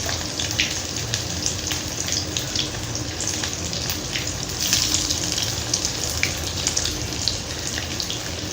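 Chicken wings fry Chinese style in hot oil with a steady, close, dense sizzling crackle that holds for the whole stretch and swells slightly near the middle.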